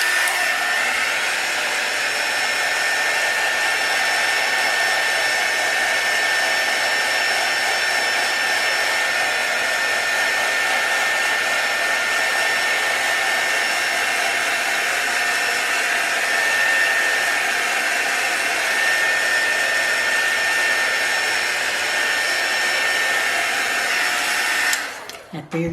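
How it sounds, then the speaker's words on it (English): A hair dryer drying paint on a barn quilt blows continuously at close range with a steady whine, running unbroken before switching off abruptly at the end. "If you're using a hair dryer or one of these little heat tools"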